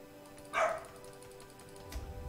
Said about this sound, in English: He uses the doggy door to go outside and just bark at random things